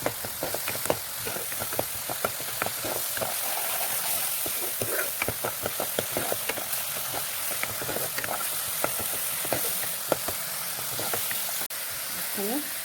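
Spices with cumin, chilli powder and garam masala sizzling steadily in a hot pan as they are stirred, a continuous close frying hiss broken by scraping spoon strokes.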